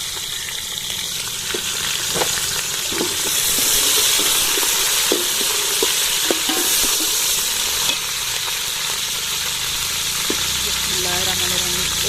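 Tomatoes, green chilies and spices frying with browned onions for a village-style matar pulao, a continuous sizzle with scattered utensil clinks and stirring, loud and close throughout.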